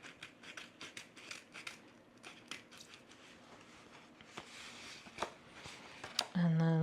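Blade trimming excess vinyl from a Valentine's Day welcome sign design: a quick series of close, crisp snips and scratchy cuts, ending with a short tonal beep-like sound, with soft speech around it.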